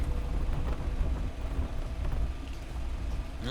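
A car engine drives in the Arma 3 military video game, heard as a steady, loud low rumble with no talk over it.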